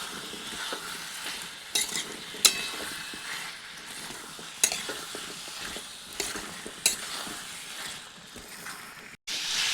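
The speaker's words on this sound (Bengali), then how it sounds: "তো এরপর এগুলিকে কিছুক্ষণ আরও ভাজতে থাকবো। 5 থেকে 7 মিনিট এগুলি ভেজে নিচ্ছি।" Potatoes and peas frying with spices in a pan for a new-potato curry, a constant soft sizzle broken by periodic sharp scrapes and knocks of a spatula, near and without talk.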